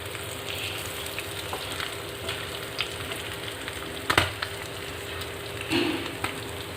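Kerala-style river fish fries in hot oil with a steady, dense sizzle and a few louder pops and spatters, close up with no voices.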